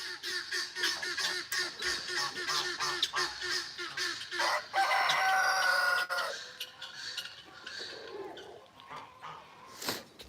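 At an animal sanctuary, a rooster crows among farmed geese and guinea fowl, with repeated honks and clucks throughout and one drawn-out crow standing out near the middle, all at moderate distance.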